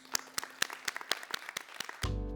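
A church congregation claps in a steady, evenly spaced beat, about nine sharp claps in a row, then a sustained musical tone takes over at the end.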